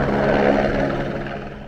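A helicopter passes near helipads on the Himalayan pilgrimage road toward Sonprayag, its rotor and engine making a loud, steady drone that slowly fades as it moves away.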